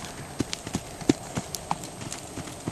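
Hooves of a mustang gelding under saddle picking up speed, an uneven series of soft clip-clop thuds about three to four per second, moderately distant over a faint background hiss.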